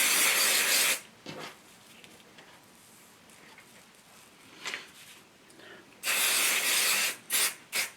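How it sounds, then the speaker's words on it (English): Spray-and-bond adhesive hisses from an aerosol can onto Insul-Bright insulated lining in two loud bursts, one long opening spray and a longer one near the end with short follow-up puffs, quiet handling noises in between. "I'm going to take spray and bond, and I'm going to bond these 2 pieces of Insul-Bright"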